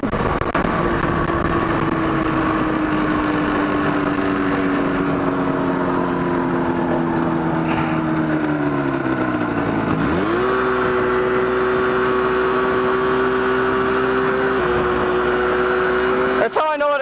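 A snowmobile-engine go-kart accelerates, its loud, close buzzing engine note sagging slowly, dropping sharply, then snapping back up to a high steady whine that holds to the end.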